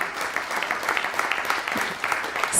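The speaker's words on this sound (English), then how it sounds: "let's give her a big round of applause" Wedding guests applaud after a speech, a dense, steady round of clapping from a crowd that carries on evenly for a few seconds with no talking.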